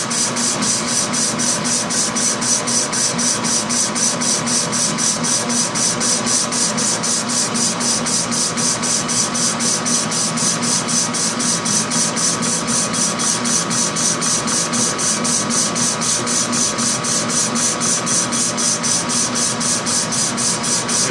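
A metal lathe cuts 8-inch round steel stock with coolant, a loud constant whirring hum with a fine high-pitched rapid texture, unbroken and close.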